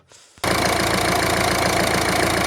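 A Peugeot 5008 engine cranks briefly, catches, and settles into a steady, loud idle with a rhythmic knocking chug, after a fuel filter replacement.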